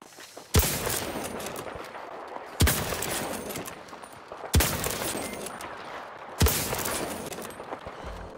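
Sniper rifle fire in the video game Battlefield 2042: four loud, sharp shots spaced about two seconds apart, each followed by a long rolling echo that fades before the next.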